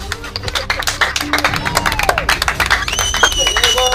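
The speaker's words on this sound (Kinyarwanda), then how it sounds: "Umuha amashyi." A crowd at a wedding scene in a comedy sketch claps in quick, uneven bursts, close and lively, with voices and some musical tones mixed in.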